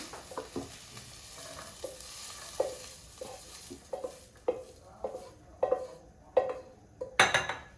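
Sautéed food for white sauce pasta being scraped from a pan onto a plate: a series of close, clattering spatula scrapes and metallic clinks in an irregular rhythm, ending with a louder burst of clatter, with no talk.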